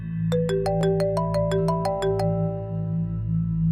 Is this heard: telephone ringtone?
yes